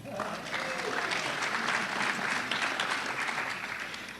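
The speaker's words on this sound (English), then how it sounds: "let's still applaud for these folks, okay?" Audience applause at a Mountain View civic leaders celebration, steady dense clapping throughout at moderate loudness, with a faint voice briefly audible at the start.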